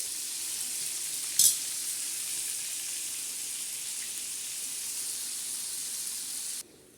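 Pomfret fish coated in semolina, red chilli, turmeric and salt fries in oil, a steady soft hiss of sizzling with one brief sharp clink early on, ending abruptly.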